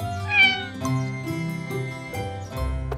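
A cartoon kitten meows several times in a row, bright, close and tuneful, with short rising and falling cries alongside a faint tinkling sound.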